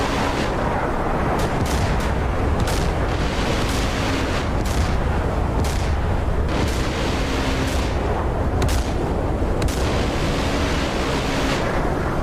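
A 127 mm naval gun fires steadily in a naval combat game, a dozen or so booming reports at a roughly one-second rhythm over a constant dense roar of sea and battle noise, no talk.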